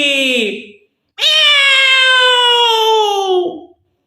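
A cat's meow in a children's Urdu poem recitation: one short cry, a brief pause, then a long drawn-out, falling meow, loud and clear with nothing else underneath.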